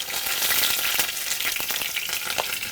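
Steady crackling and sizzling of soft-shell crab frying in a hot pan, close up, with dense popping throughout and no voices.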